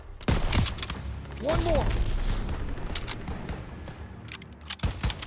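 Gunfire in the World War II shooter Call of Duty: WWII: sharp, close shots and short bursts at the start and end, with voices shouting and calling out between them.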